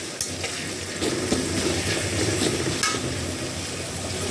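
Onions with chopped garlic frying in a pan, a continuous dense sizzle with occasional stirring scrapes, close and fairly loud with no talking.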